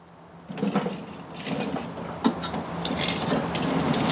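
Lump charcoal stirred inside the firebox of an American Gourmet 1280 offset smoker, giving scraping, rasping rubs and light clinks that come in short irregular strokes, close by with no talk.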